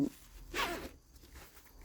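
A zipper on a Thai shoulder and chest bag is pulled open in one quick rasping stroke, close and fairly soft, with quiet handling noise after.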